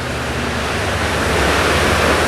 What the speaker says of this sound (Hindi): यही हम लोग छोटा झरना, मुर्गा महादेव का झरना, बोल बम का झरना